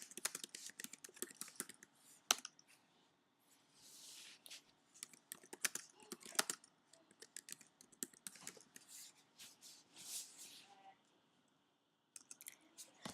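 Quiet clicking keystrokes on a computer keyboard come in irregular bursts with short pauses, close and faint, with faint voices in the background at times.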